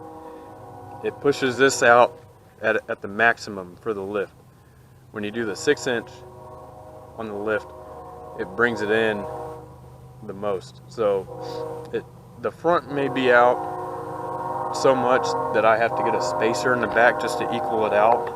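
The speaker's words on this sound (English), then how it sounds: "Sorry about the train noise, guys" A train horn sounds with long sustained tones through much of the stretch while someone talks steadily over it near a truck, the horn swelling louder toward the end.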